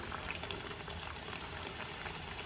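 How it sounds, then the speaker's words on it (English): Hot oil bubbles and crackles steadily in an electric skillet for frying ravioli, a dense fizzing texture at low volume with no other sounds. "See, it's still bubbling pretty good."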